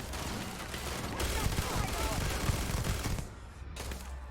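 Gunfire from a new gun in the video game Starfield, rapid continuous bursts of automatic fire rattling loudly for several seconds before easing off, with battle noise around it.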